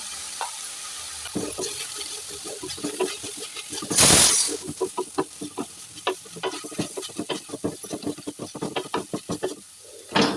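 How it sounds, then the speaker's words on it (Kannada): Grated coconut and masala frying together in a pan for a drumstick masala gravy, a steady sizzle broken by repeated scraping, stirring strokes and one louder burst of hiss near the middle. "ಈಗ ತೆಂಗಿನ ತುರಿಯನ್ನು ಕೂಡ ಹಾಕ್ತಾ ಇದ್ದೇನೆ ಎಲ್ಲ ಒಟ್ಟಿಗೆ ಫ್ರೈ ಆಗಿ"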